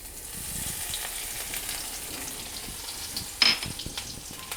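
Cumin seeds crackle and sizzle in hot ghee in a kadhai, a soft steady frying hiss with a sudden sharper spatter near the end, close by and without talk.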